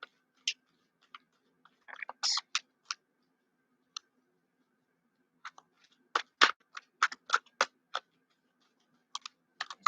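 A large tarot deck is shuffled by hand, giving sparse, close card snaps and riffles in irregular bursts with quiet gaps between them.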